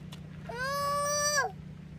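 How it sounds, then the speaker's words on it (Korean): A duck gives a single drawn-out, nasal call of about one second, clear against a quiet background hum. "오리 오리"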